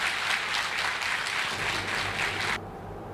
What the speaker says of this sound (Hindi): तो जोरदार तालियों के साथ स्वागत कीजिए हुड्डा साहब का।